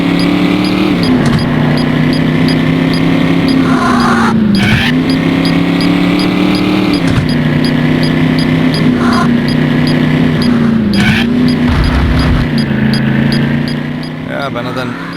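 Racing car engine in the 1995 PC video game The Need for Speed, a loud continuous high-pitched whine rising and falling as the car accelerates and shifts through gears, with brief dips between.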